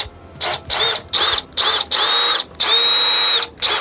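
A power drill with its bit set against a screw-hole template for a pellet drive runs in short repeated bursts, about seven whirring pulses separated by brief stops, close and loud with no talk.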